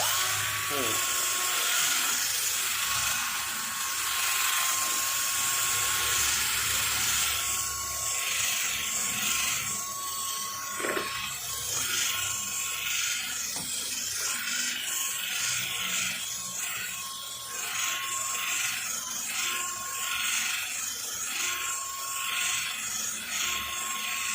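An adjustable-speed electric drill fitted with a polishing pad buffs car paint at home, giving a steady, high-pitched whine that runs unbroken and loud throughout, with a voice talking over it.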